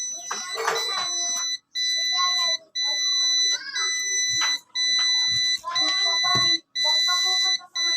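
A loud electronic egg incubator alarm beeps in repeated long tones with brief gaps, while voices talk underneath.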